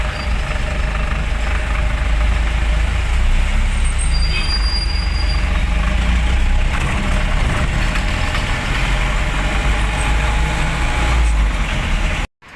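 Big vehicles rumbling on a road near a traffic signal, a loud steady low engine drone with idling hum and occasional high squeals, continuous for about twelve seconds before cutting off abruptly.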